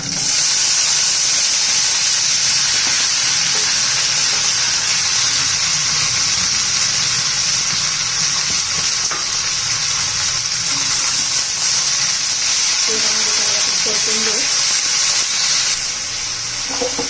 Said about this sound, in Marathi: एक दोन मिनिट आपण चांगलं परतून घ्यायचे तेलामध्ये, म्हणजे मऊ होते.